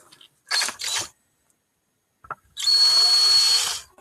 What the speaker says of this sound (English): I'm going to drill that out.